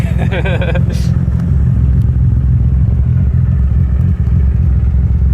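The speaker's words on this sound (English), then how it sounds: "you're riding in something that makes north of 700 wheel horsepower, and it's got a PPG sequential box" A car making over 700 wheel horsepower and fitted with a PPG sequential gearbox drives along, its engine a loud, steady low rumble heard from inside the cabin, with a brief clatter near the start.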